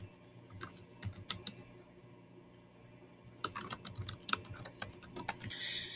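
Keystrokes on a computer keyboard as a name is typed into a Google Drawings document, two bursts of quick, close clicks separated by a quiet pause, with no talking.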